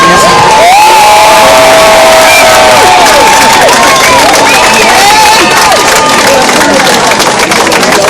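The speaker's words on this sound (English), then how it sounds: "I want you to give her a big round of applause" A protest crowd at a City Hall counter-protest cheers and applauds loudly and continuously, with shouts and whistle-like calls rising over dense clapping and crowd noise throughout.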